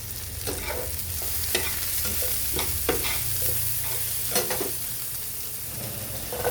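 Kangkong with a little pepper stirred and fried in a pan: a continuous sizzle under repeated scraping, clattering strokes of a utensil against the pan, close and fairly loud, no voices.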